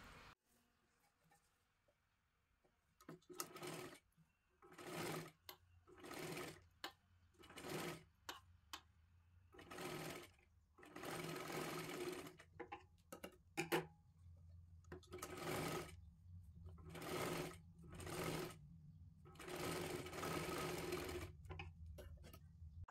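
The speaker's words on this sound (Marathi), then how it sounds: "डबल शिलाई मारायची आहे आपल्याला आणि अर्धा इंच हे शिलाईमध्ये आपल्याला पकडायचं आहे" A domestic sewing machine runs in repeated short bursts of rapid stitching, double-stitching the cup seam of a size 37 katori blouse, close and clear with brief pauses between runs.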